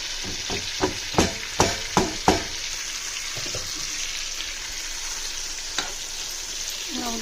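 Small eggplants fry in a pan with a steady sizzle. A quick run of sharp utensil scrapes comes early, then a quieter hiss continues with one more knock near the end.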